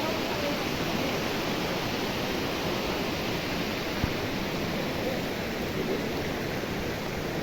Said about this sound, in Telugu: కింద జలపాతం, సెలయేరు,